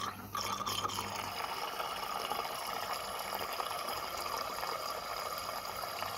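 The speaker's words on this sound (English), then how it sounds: "plenty of bubbles there." Water bubbles steadily from an aeration nozzle on a Juwel Bioflow aquarium filter, a continuous close fizzing trickle with a faint hum, heard alone throughout.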